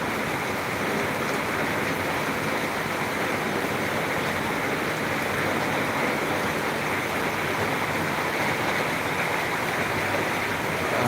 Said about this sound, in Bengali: বৃষ্টি কিন্তু অনেক অংশেই কমে আসছে